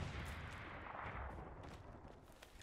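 Distant enemy artillery rumbles across the battlefield in the video game Hell Let Loose, a low, continuous booming wash with no voices.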